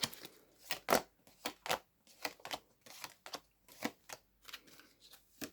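Tarot cards are shuffled by hand up close in a quick, irregular series of crisp riffling flicks and taps, with no one speaking.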